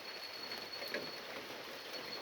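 Steady rain falls as a soft, even hiss with faint pattering, continuous and fairly quiet throughout, with no voices.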